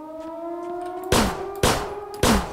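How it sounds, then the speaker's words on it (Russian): A siren drones steadily in a zombie video game, a sustained multi-tone wail interrupted by three loud metallic clanging impacts, close and sharp. "Ну чё, заходим и вырубаем наконец-таки эту сирену."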